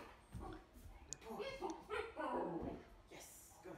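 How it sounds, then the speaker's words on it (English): A Vizsla dog growling and groaning close by, a string of low rumbling growls breaking into whiny, yip-like vocal groans that rise and fall, fairly quiet overall with faint background noise. "at the moment she's growling and groaning, but it's starting to get louder"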